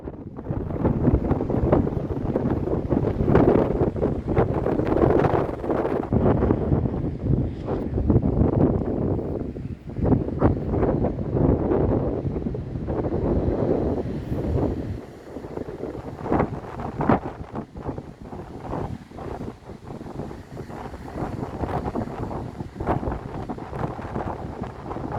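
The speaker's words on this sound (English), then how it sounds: "The wind has died down a little bit." Strong wind buffeting the microphone on a storm-swept beach, a continuous roaring rumble that surges and eases over about twenty-five seconds, loud and close with no talking.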